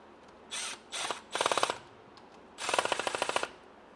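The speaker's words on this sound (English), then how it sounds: "We're going to use our screws to pull this in together." Screws being driven and tightened into a BMW Getrag 420G transmission case, M6 fasteners, heard as four bursts of rapid ratcheting clicks, the last and longest near the end, close and fairly loud with no talk.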